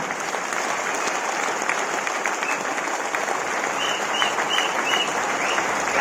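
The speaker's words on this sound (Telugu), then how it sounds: "రెండు చేతులు ఉన్న వాళ్ళు మాత్రమే క్లాప్స్ కొట్టాలి." Audience at a Vestige business meeting applauding, dense continuous clapping from a crowd that holds steady throughout.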